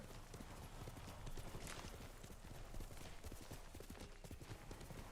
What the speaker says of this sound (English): I left my horse up there to climb down the hill, but just call it down.